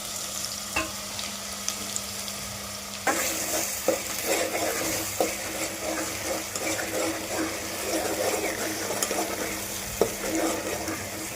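Masala for a spicy mutton curry sizzles and fries in a pan, stirred steadily with a spoon scraping the metal in repeated strokes, close and continuous.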